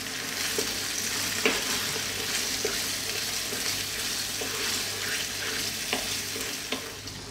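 Lamb dopiaza curry with yogurt and spices is stirred continuously in a pan, a steady close sizzle punctuated by regular soft scrapes and knocks of the spoon, without any voices.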